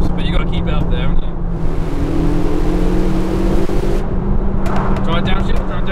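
A car engine roars at high revs, a steady loud drone with wind noise, and people talk over it.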